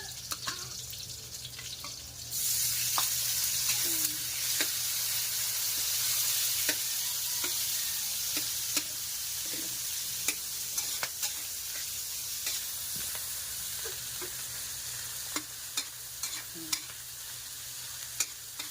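Ground meat frying in a pan for spaghetti, a steady broadband sizzle with scattered clicks and stirring scrapes, close and continuous after a quieter start.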